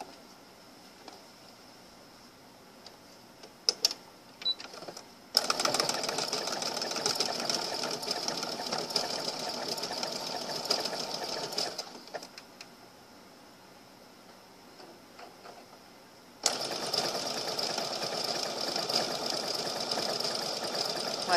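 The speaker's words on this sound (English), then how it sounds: "now let me get my overlock stitch on" Sewing machine running an overlock stitch while making a pillowcase dress, a steady close whirring hum in two long runs separated by a brief slowdown, with a few light clicks before it starts.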